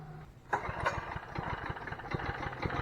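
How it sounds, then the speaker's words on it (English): A homemade budget wheelie trike engine with a carburetor catches after a brief crank and settles into a rough, rapid chugging idle that stays close and steady. "Might just have to hold her floor to start it."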